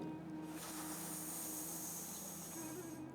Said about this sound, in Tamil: சீத்தளி அப்படின்னு ஒரு சின்ன ஒரு மூச்சு பயிற்சி பண்ண போகிறோம் வாய் வெளியே மூச்சை உள்ளழுங்க இந்த மாதிரி